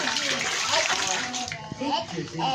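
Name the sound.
water poured while bathing a child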